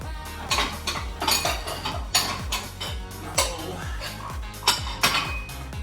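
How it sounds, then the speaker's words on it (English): A pot lid is lifted off a pot of cooking rice for gumbo. Sharp metallic clinks and clatters of lid and cookware repeat close by, and there is no speech. "Remove my lid."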